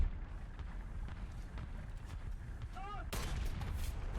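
An M60 120S tank's main cannon fires in War Thunder, a single sharp blast near the end over a constant low rumble of engine and battlefield noise.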